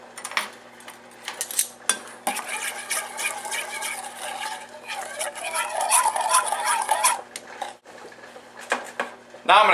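A spoon clatters against a bowl while anise seeds are mixed into a seasoning mixture for roasted cauliflower, giving busy, close scraping and clinking with short pauses.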